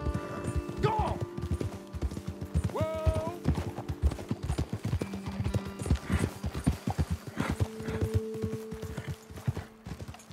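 Rapid clip-clop of horse hooves at a gallop in Red Dead Redemption 2, loud and close, with a brief whinny and muffled voices talking over the rhythmic pounding.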